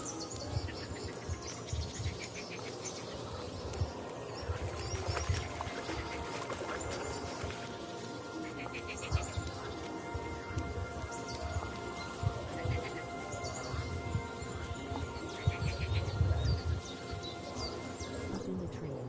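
Birds calling from the trees in the video game Kingdom Come Deliverance 2, with chirps and coos layered over insect buzz and an outdoor ambience that runs steadily throughout, with occasional low rumbles.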